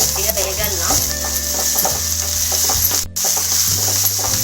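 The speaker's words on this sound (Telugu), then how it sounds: "హై ఫ్లేమ్లో పెట్టి ఇలా తిప్పుతూనే ఉండాలి." Onions fry on high flame while being stirred constantly, a dense close sizzle with rhythmic scraping strokes of the spatula and a brief break near the end.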